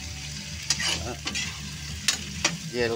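Shrimp (hipon) frying in a pan while being stirred, a steady close sizzle with scrapes and clinks of the utensil; a brief word is spoken over it.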